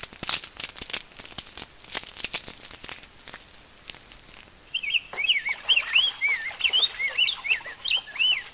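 Birds chirp and twitter in an animated film's spring scene, a bright run of quick repeated calls entering partway through after scattered clicks and taps, moderately close and without talk.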